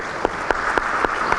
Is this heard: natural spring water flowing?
no